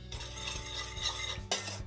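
A utensil stirs sugar and water in a saucepan, with quiet repeated scraping and clinks about every quarter second and one sharper knock near the end, faint and close with no talking.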